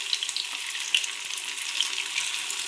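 Onion pieces fry in hot oil, giving a steady, close crackling sizzle with small pops scattered throughout and no voices.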